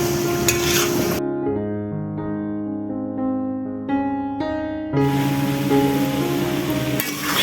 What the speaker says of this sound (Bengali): তো সবগুলো সবজি এখন আমি ভালো করে কষিয়ে তারপরে আমি চাল আর ডাল দিয়ে দেব